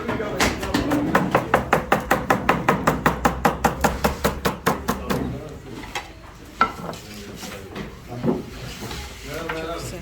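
A knife cuts through a freshly baked pide brushed with butter, giving a fast, steady run of crisp rhythmic chops that fades into softer kitchen clatter while people talk nearby.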